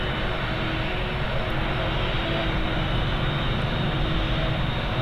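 Jet2 jet airliner coming in to land, a loud, steady engine roar that stays constant and close, with no voices.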